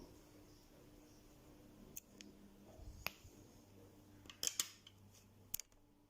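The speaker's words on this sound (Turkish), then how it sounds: "çift düğüm attım ve ipimi kesiyorum" Scissors snip thread after a double knot in Turkish needle lace, a few small sharp clicks and snips that sound close and faint over a quiet room hum.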